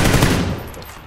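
Rapid automatic gunfire in the battle-royale game PUBG, a dense, loud burst of shots that fills the opening half-second and then trails off into fainter echoing reports.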